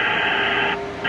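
A cockpit speaker in a Citation M2 with G3000 avionics switches on during a reboot inside a hangar, giving a steady broad hiss that drops out briefly near the end and then returns, loud and close.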